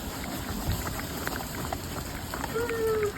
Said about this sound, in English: Running through the rain.